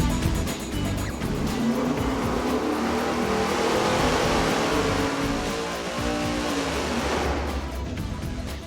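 A roughly 1,000 hp engine running through a Hooker maximum flow muffler on a dyno, producing a loud, steady exhaust drone that holds throughout without pause.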